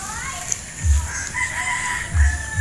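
A young Peruvian rooster, nearly six months old, crows nearby, a drawn-out cock-a-doodle-doo, with low thumps and some background noise around it.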